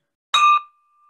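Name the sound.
bell being rung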